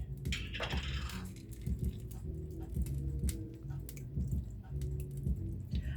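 Spaghetti is stirred with sauce a little at a time, soft wet squishing and light tapping in a loose rhythm, close and quiet.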